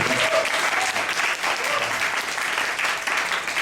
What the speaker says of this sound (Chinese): 来给张辅导鼓掌一下。